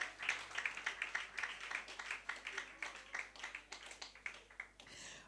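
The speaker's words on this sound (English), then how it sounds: "Give yourselves a round of applause." Faint, distant applause rises from the audience at an environmental health profession induction ceremony, a light run of clapping with rhythmic bursts that lasts a few seconds.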